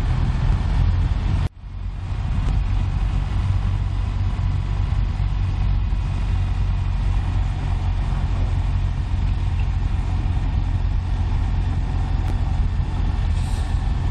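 Busy Route 246 traffic in Shibuya heard from a moving BMW R1200RS motorcycle: a loud, continuous rumble of engines and wind that stays steady throughout, broken only by a brief dip near the start.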